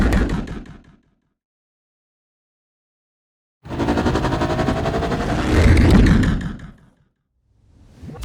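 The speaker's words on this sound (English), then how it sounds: "And here's all the sounds for Sebulba's Podracer mixed together" A burst of rough, rattling engine roar from Sebulba's Podracer sound effects rises after a stretch of silence, swelling louder for a few seconds then cutting off, with a brief earlier burst.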